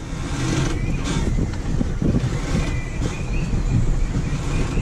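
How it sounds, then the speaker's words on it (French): Strong wind of 20–25 knots blasting across a fishing boat at sea, a loud continuous roar and buffeting that fills the whole scene with no pause. "Je parle fort parce qu'il y a beaucoup de vent."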